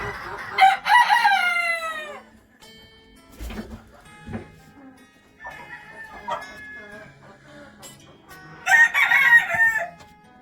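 An Old English Game rooster crows loudly and close by, two full crows at the start and end with clucking and softer bird calls between, with a brief voice in the background.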